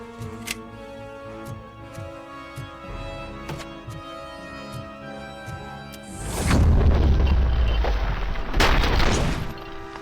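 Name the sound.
grenade explosion in the video game RoboCop: Rogue City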